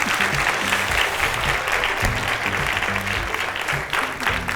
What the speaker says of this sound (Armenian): Այստեղ կարելի է ծափարել